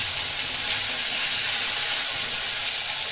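Cumin paste sizzling in hot oil for a Bengali milk and ridge gourd dish, a steady bright hiss of frying close up with no talk.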